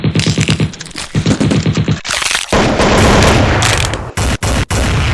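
Soldiers fire at a giant ape in a staged emergency-alert scenario: rapid machine-gun bursts hammer steadily, then a dense, roaring barrage swells before a few sharp gaps and renewed volleys, loud and close.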